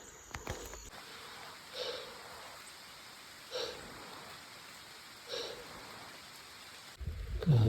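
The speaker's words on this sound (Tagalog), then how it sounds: "Lakas ng ulan." Heavy rain falls during a long bicycle ride on the Kasibu Loop, a faint steady hiss with a few soft periodic thumps. A louder clatter comes near the end.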